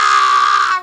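A human voice imitates a horrible, wretched screeching, a single sustained shrill screech that holds steady and cuts off abruptly, loud and close.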